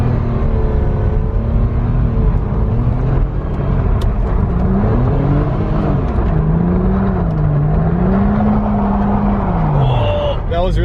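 A Porsche Cayman's engine drones and revs continuously as it drifts on a track, its pitch rising and falling in sweeping waves, heard loud from inside the car with people talking over it.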